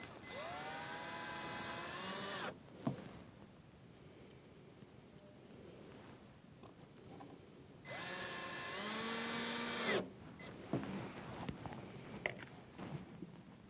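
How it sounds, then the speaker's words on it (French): Screws are driven back into a wall socket with a power screwdriver in two bursts of rising, whining motor sound, each followed by quieter clicks and small handling knocks. "je les ai dévissés et je les replace"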